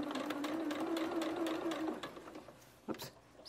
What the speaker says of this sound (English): I'm just sewing right along that edge